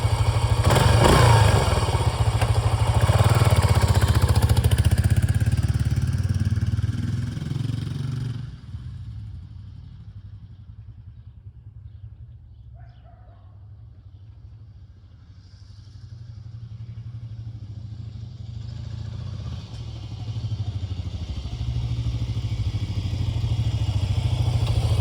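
A restored Yamaha XT500 motorcycle engine idles off choke with a steady low putter, quieting for a stretch in the middle before rising again, close by with no voices.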